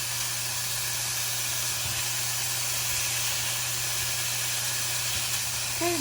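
Bacon sizzling in a pan as its fat renders for spaghetti carbonara, a steady, even hiss with a low hum underneath and no other sound.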